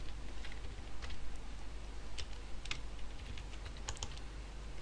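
Scattered keystrokes clatter on a computer keyboard, a few quick taps then pauses, close and fairly quiet over a steady low hum.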